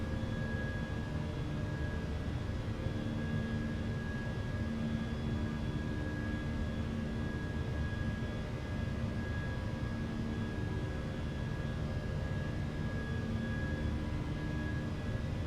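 A Fenix A319 airliner climbs in a flight simulator at sunset, a steady low engine roar with a constant high whine and faint hum, unchanging and even for the whole stretch with no talk.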